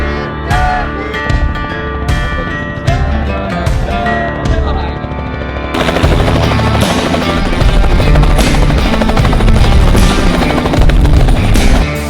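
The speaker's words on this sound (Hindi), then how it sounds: "और देखो हेलीकॉप्टर" A helicopter flies above a large crowd at a Bhim Army rally with Chandrashekhar Azad, its loud rotor chop and engine whine going steadily over crowd noise and music.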